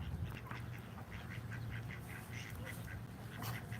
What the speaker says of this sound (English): Fighting ducks.